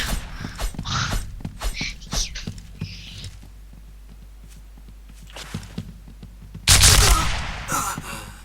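Shots from the Point Blank online shooter, a string of short, sharp cracks in quick succession, then a quieter gap and a sudden loud blast near the end, with players chatting underneath.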